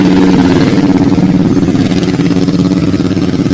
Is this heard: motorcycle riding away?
yes